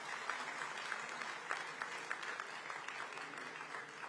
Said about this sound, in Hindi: मुझे लगता है पहले तो तालियां बजाकर उनका स्वागत करना चाहिए।